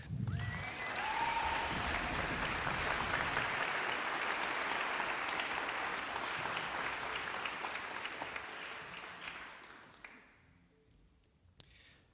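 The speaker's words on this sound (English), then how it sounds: "How about a round of applause for our oboist, Rachel Kirkpatrick?" A concert audience claps for an oboist at a Melbourne Symphony Orchestra showcase, sustained full-hall applause that gradually thins and fades out, ending with a few scattered claps.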